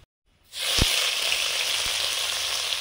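After a brief silence, a loud hiss bursts up as ingredients hit hot mustard oil with black cumin in a pan, settling into a steady close sizzle with a couple of sharp pops.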